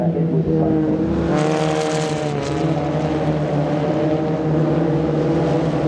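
Race cars battle closely around the CARCO raceway circuit in a WA Sporting Car Club 100K Cup race, engines droning loud and steady with overlapping revving tones that rise and fall as the pack passes.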